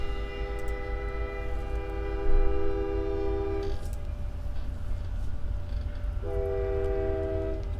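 A passing train sounds a long, loud, steady horn, which stops for a few seconds and then starts again, over a constant rumble of rolling cars.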